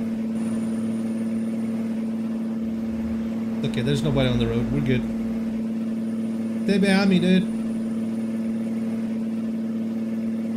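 A Peterbilt 359 truck engine in American Truck Simulator drones steadily at a loud, low idle-like hum, while someone talks over it in two short stretches.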